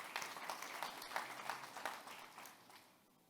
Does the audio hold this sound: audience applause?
yes